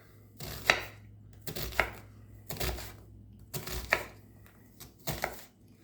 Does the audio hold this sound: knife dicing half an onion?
yes